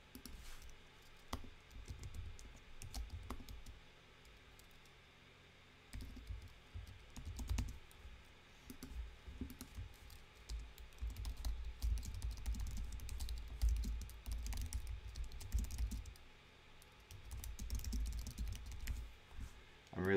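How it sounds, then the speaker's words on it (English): Rapid, uneven clicking of keys on a computer keyboard continues in bursts throughout, close and fairly quiet, with low background rumbles between runs of typing. "I'm really just typing whatever comes to mind."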